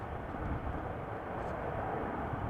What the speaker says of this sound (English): A Ryanair 737-800 arriving from Dublin.